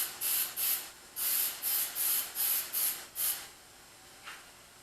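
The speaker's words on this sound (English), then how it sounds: "I use a spray lithium grease." Lithium grease sprays from an aerosol can in eight short hissing bursts in a quick series, with a faint final puff after a pause; no voices.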